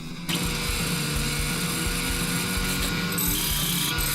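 A 9-inch disc grinder kicks on after a brief moment and then runs at a higher speed with a steady, loud motor whine and a busy, rattling hum. A slight surge comes near the end.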